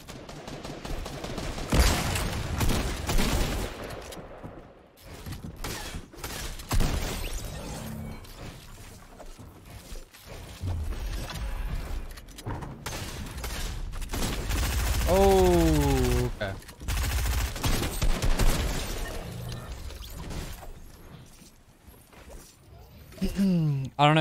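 Gunfire crackles in the video game Fortnite, bursts of shots mixed with game effects while players talk excitedly over the action.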